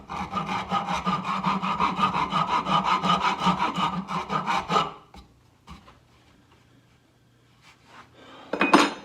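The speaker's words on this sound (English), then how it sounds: "for the fine tuning, the rasp seems to be what it wants to do." A hand rasp files a rattan sword in quick, rhythmic rubbing strokes, steady and close for about five seconds. Then it stops into near quiet, with a brief scrape at the end.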